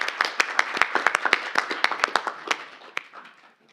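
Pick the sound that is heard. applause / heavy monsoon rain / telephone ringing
applause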